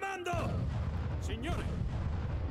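Mortar artillery fire in the video game Age of Empires 3 makes a dense, continuous roar of booming and rumbling, with a faint voice-like tone at the start.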